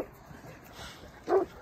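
Outdoors, a dog gives a single short bark at other dogs being walked along the road, following a stretch of faint background noise.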